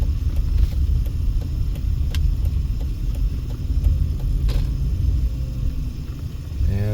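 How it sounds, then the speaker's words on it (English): Street traffic rumbles steadily past on Fremont Street in downtown Las Vegas outside the Golden Nugget, near a pedestrian crosswalk: a continuous low drone of cars and engines with occasional faint clicks and one brief passing swell near the end. "All sorts of fun traffic here."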